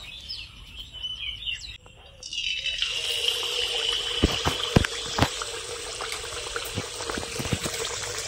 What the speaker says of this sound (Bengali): তেল গরম হয়ে গেছে, এখন একটা একটা করে তেলের মধ্যে ছেড়ে দেব।